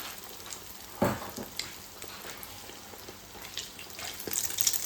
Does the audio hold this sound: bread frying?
yes